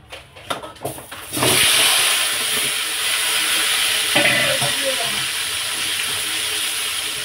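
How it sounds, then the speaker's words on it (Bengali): Potato pieces drop into hot oil and at once set off a loud, steady sizzle that holds close and continuous, with a few light stirring clinks early on before the frying settles in. "তো আলুটা এবার লাল করে ভালো করে ভেজে নিতে হবে"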